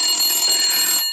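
An old rotary phone rings with a loud, steady bell-like trill that goes on for about a second and then stops, alone with no talking over it.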